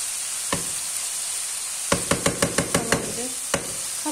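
Ground meat and potatoes sizzling in a pan while being stirred, with a steady frying hiss and a quick series of sharp spoon knocks against the pan, close and clear.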